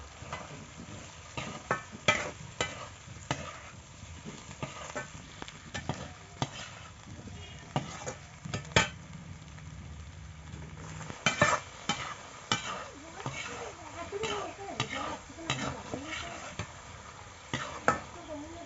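A spoon stirs pre-fried elephant foot yam into a rohu fish curry in a pan, giving irregular scraping and clattering strokes over a soft background sizzle.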